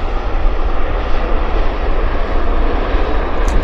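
A loud, broadband roar comes from an airliner landing at Vancouver Airport with thrust reversers deployed, a steady, powerful rushing engine noise that fills the whole stretch without letting up.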